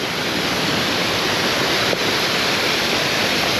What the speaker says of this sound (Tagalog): nagwawala yung alon